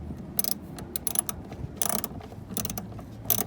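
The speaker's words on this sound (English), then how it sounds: "All right, so I got my ratchet. Now we're gonna tighten up that 10 millimeter." A ratchet tightening a 10 mm bolt during heater control valve replacement on a 2003-2007 Honda Accord gives off short bursts of crisp mechanical clicking, irregularly spaced and fairly close, over a low background rumble.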